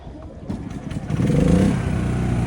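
A portable generator in a truck bed detailing setup starts up by remote start: its engine catches and settles into a steady, loud mid-pitched running drone after a moment of clattering.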